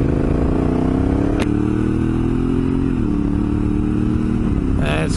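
A Honda Africa Twin DCT motorcycle pulling away, its engine droning steadily with a gradual rise in pitch and a brief clatter near the end, loud and close under wind noise.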